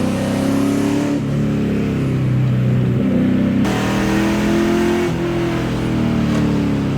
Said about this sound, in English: It's a straight pipe LS1.